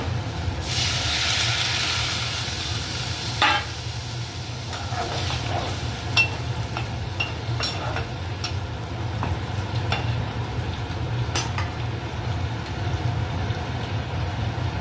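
A pan of fish curry masala with potato and pumpkin hisses steadily for a long stretch after water is added, with an even broadband sizzle and occasional sharp ticks and scrapes of stirring.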